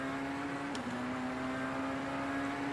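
A steady, droning Tatuus MSV F3 racing-car engine in the rFactor 2 sim game holds a constant whining pitch throughout, with a faint brief sweep partway in and no talking.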